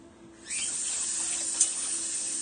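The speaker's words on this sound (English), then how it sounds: "main reason we do the running water" Water from a tap starts running at an Iowa artist habitat site and keeps flowing in a steady, close, hissing stream, with no voices.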